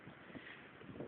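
Strong wind blows outdoors in a desert beside a highway, a steady, loud rushing buffet across the microphone with no pauses.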